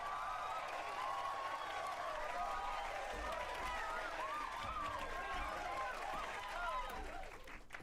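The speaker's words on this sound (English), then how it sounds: "Give him a round of applause." Audience applause for a guest reader on a live stream: a steady, dense wash of clapping with cheering voices over it, tapering slightly at the very end.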